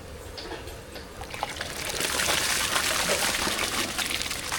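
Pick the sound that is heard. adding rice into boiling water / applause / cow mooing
adding rice into boiling water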